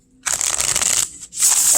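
Lo Scarabeo Under the Oak Tarot cards shuffled by hand in two quick bursts of close, crisp riffling and flapping, split by a brief pause.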